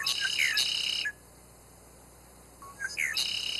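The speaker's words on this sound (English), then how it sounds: "other red-winged blackbird friends joined in the squawking as they dove" Red-winged blackbirds singing and squawking outdoors in grassland, bright shrill calls and buzzy trills in bursts at the start and end with a quieter gap between, fairly close, no talk.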